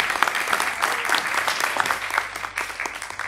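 Conference audience at an entertainment industry gathering applauding, steady crowd clapping with some louder individual claps and light voices mixed in.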